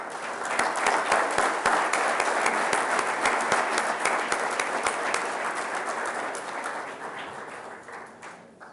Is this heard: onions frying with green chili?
no